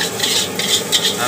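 Seafood fried rice crackles and sizzles in a hot street-vendor wok while being stirred, with rhythmic scraping strokes in quick repeated bursts, close and fairly loud.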